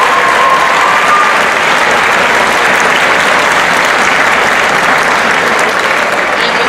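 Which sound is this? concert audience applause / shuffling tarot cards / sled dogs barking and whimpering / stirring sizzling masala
concert audience applause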